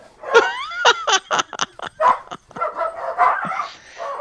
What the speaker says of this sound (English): The dogs are going out.